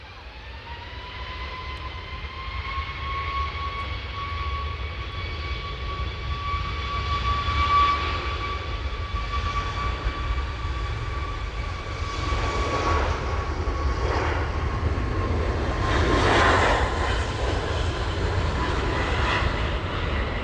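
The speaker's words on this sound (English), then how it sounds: "there should be quite a rapid takeoff from the Ryanair" Ryanair jet airliner taking off at East Midlands Airport, a steady loud engine roar with a rising whine that holds throughout, heard from close range without any talk.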